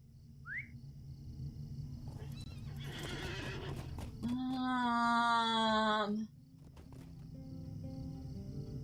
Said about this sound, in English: Her horse is named Huck.